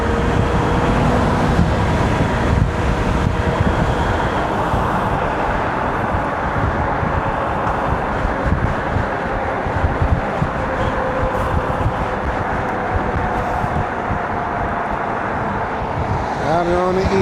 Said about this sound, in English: Out here on the e-bike passing cars on the highway.